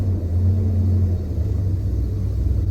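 A 1965 Chrysler 300L convertible with a 413 engine and four-speed manual rumbles steadily at idle, a deep, even low-pitched drone heard up close with no voices.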